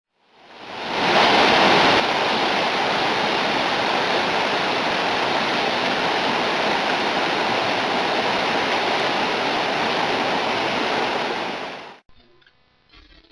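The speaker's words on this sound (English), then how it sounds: "we find a small waterfall coming in off the side slope on the other side" A stream with a small waterfall spilling off a side slope on the San Gabriel River West Fork, a loud, steady broadband rush of water heard up close, fading in at the start and cutting off abruptly near the end.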